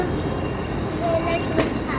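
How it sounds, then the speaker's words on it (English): A DLR train runs through a London tunnel with a steady low rumble and rolling rail noise, up close, and a voice speaks over it. "We're getting ready to get on the train."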